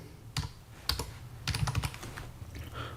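Fingers type a gcc command on a computer keyboard, a few separate key taps followed by a quick run of clicks, close and fairly quiet with no talking.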